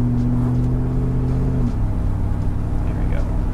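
A 2003 Ford Lightning SVT pickup cruising at ordinary speed, its engine giving a steady low drone with a smooth shift in pitch partway through, heard from inside the cab.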